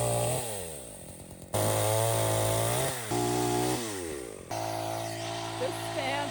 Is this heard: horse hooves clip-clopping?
no